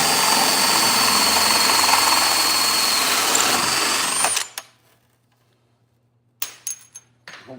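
A power drill whirs steadily for about four seconds while drilling an aluminum fuel tank for a 1961 Ford F100, then stops, followed by silence and a few short clicks and taps.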